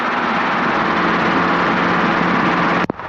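A helicopter in flight over Point Vicente gives off a loud, constant engine and rotor roar from inside the cabin, steady throughout with a brief click near the end.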